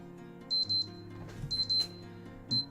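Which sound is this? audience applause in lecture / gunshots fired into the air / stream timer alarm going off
stream timer alarm going off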